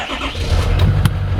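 A truck engine with a weak battery cranking and catching, a loud low rumble with a brief rising surge as it fires up close by.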